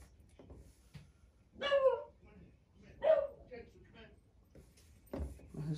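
A pet dog in a home gives a few short whimpering yips and whines, close and fairly soft, spaced apart, while someone talks to it in a low voice between the sounds.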